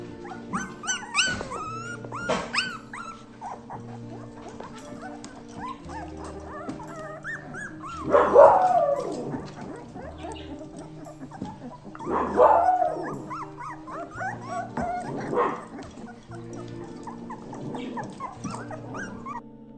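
Several puppies bark, yip and whimper in bursts close by, with louder yelping peaks spread across a steady background of small dog noises.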